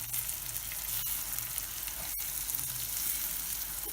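An egg frying in a pan, a steady soft sizzle throughout with a couple of faint clicks of a utensil, close and quiet with no talking.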